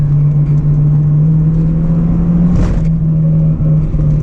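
Acura RSX Base with a K20 engine pulling hard on a backroad, its steady high-rpm drone crossing into VTEC, close and loud inside the cabin, with a brief whoosh partway through and no talking.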